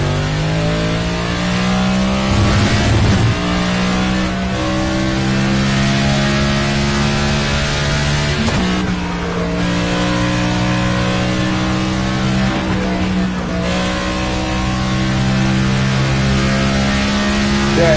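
A NASCAR race car engine in the racing game NASCAR 25 holds a steady droning rev for a long stretch, with short shifts in pitch as the car brakes and accelerates on a road course.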